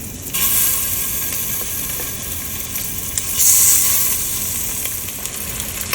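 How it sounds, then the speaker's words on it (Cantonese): Fatty pork belly sizzles as it pan-fries for red braising, giving a steady, bright hiss with small crackles and a brief louder surge midway, with no voices. "煎下佢"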